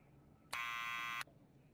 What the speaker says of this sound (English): Yep, okay, hit the buzzer.